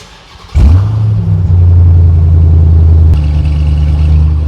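A supercharged car with an aftermarket cold air intake starts up not fully cold: a sharp crank catches into a loud, steady idle, then a brief blip lifts the engine note before it settles and drones on close by.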